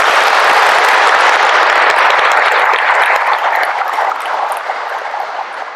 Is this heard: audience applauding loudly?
yes